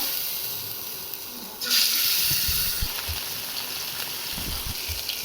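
Rohu fish pieces slide into hot oil in a wok, and a sudden loud sizzling hiss bursts up partway through, then settles into a steady bubbling fry heard up close.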